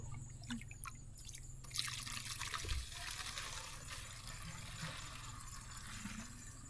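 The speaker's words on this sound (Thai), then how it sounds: "นี่แหละแหล่งน้ำกินของพี่น้องชาวลาวในชนบท" Water trickles and drips steadily at a rural drinking water source in the Lao countryside where villagers collect water, a soft continuous flow with a low hum underneath and no talking.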